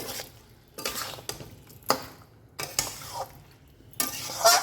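A fish head is stirred into a vegetable curry of runner beans in a metal pan, giving several separate scraping, clattering strokes of a spoon with a faint sizzle between them, close up and with no talking.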